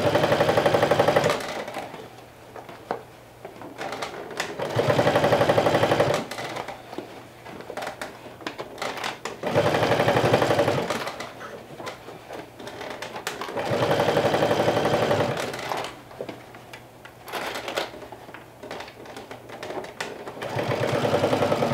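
A sewing machine stitches the seam of a bucket hat in bursts of rapid, even whirring, several runs of a few seconds each separated by quieter pauses with a low hum.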